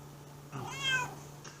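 An elderly cat, about 18 years old, lets out a single drawn-out meow at close range, rising and then trailing off, with no other sound around it.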